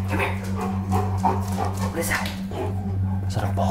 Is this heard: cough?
no